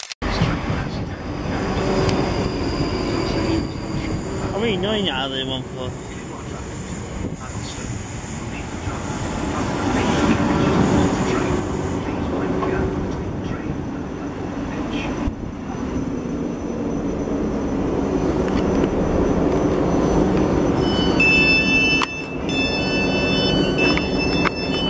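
A South Western Railway train to Weybridge rumbles at the platform at Staines, with a low continuous drone and rising and falling mechanical noise over about twenty-five seconds, under brief talk and station announcement tones.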